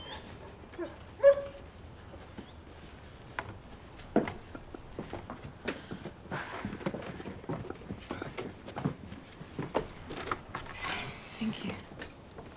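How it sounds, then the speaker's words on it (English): An unhappy dog whimpers and gives short yips and barks in bursts at close range, mixed with people talking and some shuffling movement. "Someone sounds unhappy. It's just a dog."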